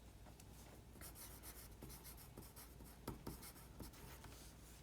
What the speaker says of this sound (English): So Marius, let me write it down here.